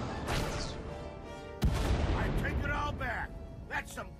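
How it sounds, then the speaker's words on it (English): Blaster gunfire in the Star Wars: The Old Republic video game, with a sharp loud burst partway through over a dense layer of game combat noise and effects. "Shooting."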